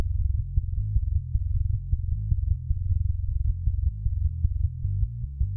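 Hard-compressed metal bass guitar tone with no final EQ, a saturated low-end line of steady plucked notes with small pops and clicks on the attacks, played alone and loud.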